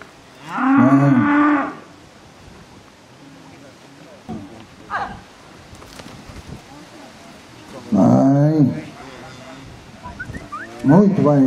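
A cow at a bullfighting ranch lets out two loud, drawn-out moos several seconds apart, with quieter lowing and faint background noise in between.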